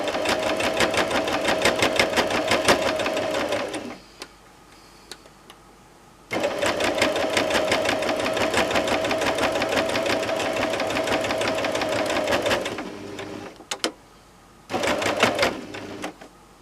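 A sewing machine stitches around the edge of a quilt in two long steady runs, loud and close, with a short pause between them and a brief final burst.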